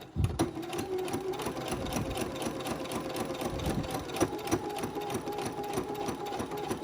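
A sewing machine stitches continuously up close, a steady fast rattling hum with regular needle ticks, moderately loud and alone without talk.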